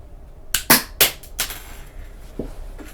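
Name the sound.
homemade mechanical pencil weapon shooting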